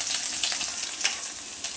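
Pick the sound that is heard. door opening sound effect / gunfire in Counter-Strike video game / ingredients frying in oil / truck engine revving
ingredients frying in oil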